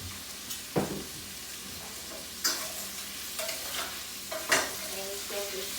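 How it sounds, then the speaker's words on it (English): Italian sausage fries in a pan with a soft steady sizzle, broken by several sharp scraping stirs and clinks of a utensil against the pan. No one speaks. "see the sausage is cooking"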